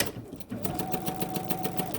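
BERNINA sewing machine stitching a row along a seam guide, a fast even rhythmic clatter of needle strokes, close and steady, with a faint voice in the background.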